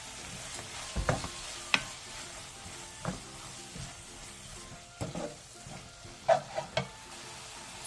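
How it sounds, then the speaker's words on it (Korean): Kimchi stir-frying in a pan after syrup is added, a steady low sizzle under intermittent scraping and clacks of a utensil stirring against the pan, close and moderately quiet. "그 다음 올리고당 3스푼을 넣고 2-3분 정도 더 볶아주세요."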